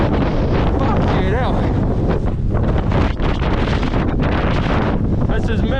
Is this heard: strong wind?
yes